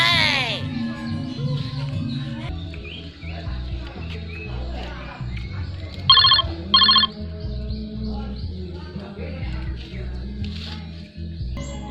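A telephone rings in a lively Balinese comedy scene, two short electronic ring bursts heard close, sitting amid talk and background music.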